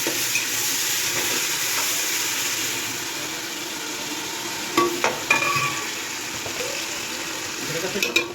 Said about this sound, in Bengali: আমার বোনের জামাই রান্না করতেছে তো উনি একটু এখানে এসে লাড়ালাড়ি করে দিতেছে